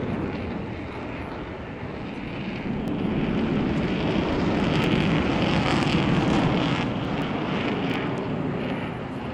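A Sukhoi jet flies at an airshow, its engine a loud, broad roar that swells and fades steadily over several seconds, with some wind buffeting the microphone.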